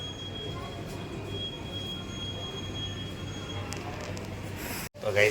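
A train pulling out of an empty Bhavnagar station, a steady low rumble with faint high wheel squeal tones running throughout, fairly distant and even, ending with a short break and a closer noise.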